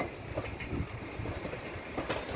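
An electric locomotive rolls along the rails at a Norwegian railway, giving a steady, moderately distant rumble with light wheel clatter and no talking.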